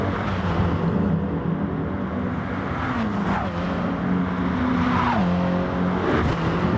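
Audi TT race cars roar past on the Nordschleife in a racing video game, loud engines rising and falling in pitch through gear changes, with tire noise under a dense, continuous engine drone.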